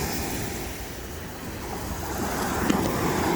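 Surf rolls in at North Miami Beach along Collins Avenue, a steady broad wash of waves mixed with wind buffeting the microphone, gently swelling louder toward the end.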